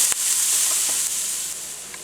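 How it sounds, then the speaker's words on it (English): Onions cook down in a pan for smothered pork chops, giving a steady, close hiss of sizzling oil with a few faint crackles and one light tap near the start, and no voices. "we're going to add in our onions and we're going to cook those down"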